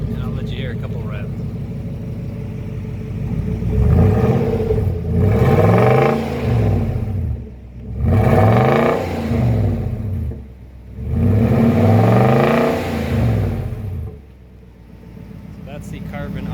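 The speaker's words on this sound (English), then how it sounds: "That's the Carven-R exhaust on a Nissan Titan coming out the side." A 2006 Nissan Titan XE 4x4 V8 with a Carven-R side-dump exhaust revving up several times in a row, each deep, loud rise and fall close by, over a steady idle rumble.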